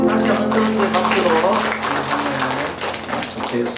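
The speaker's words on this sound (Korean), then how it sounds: "다시 한번 뜨거운 박수로" Church congregation applauding during a Sunday worship service, steady dense clapping that fills the room while tonal music or voices sit underneath.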